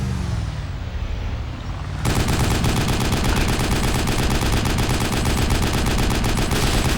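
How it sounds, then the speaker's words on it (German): Loud, dense gunfire in the survival game DayZ, starting abruptly after a quieter rumbling stretch and continuing as sustained rapid automatic bursts through to the end. "Jetzt wird auf uns geschossen."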